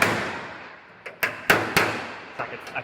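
A hammer drives a chisel against a car body panel held with sheet metal screws, giving about seven sharp metallic strikes at uneven intervals, close and loud, each with a short ringing decay.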